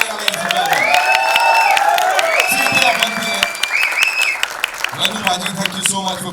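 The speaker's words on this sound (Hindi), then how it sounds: "जोरदार तालियां ladies and gentlemen" Audience applause at a film trailer launch event in Mumbai, clapping and cheering from a crowd while a host speaks loudly over a microphone, the clapping carrying under and between the voice.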